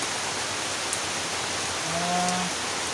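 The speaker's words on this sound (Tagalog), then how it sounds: "Napakalakas ng ulan mga kawad." Heavy rain pours down in a dense, steady hiss with no letup, loud and close, with a brief faint tonal whine partway through and no voices.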